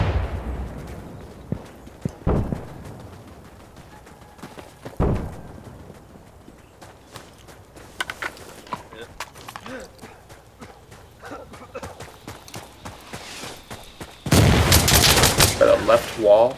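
Gunfire in the video game Insurgency Sandstorm, a few sharp isolated shots early on, then a dense loud burst of rapid fire near the end, with players talking in between.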